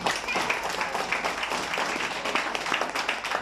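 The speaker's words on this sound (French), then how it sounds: "Applaudissez tout, hein." A church congregation claps together in a dense, steady patter of many hands, filling the room for a few seconds without a break.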